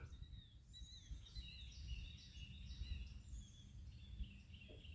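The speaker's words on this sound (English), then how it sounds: "I can hear some birds out there." Birds call and chirp over a bayou marsh at Lake Fausse Pointe in southern Louisiana, scattered high notes repeating at moderate distance over a soft outdoor background.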